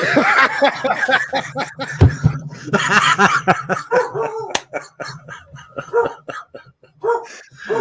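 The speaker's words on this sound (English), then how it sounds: "dogs are barking." Dogs barking in loud, repeated bursts close by, mixed with people laughing and talking over and between the barks.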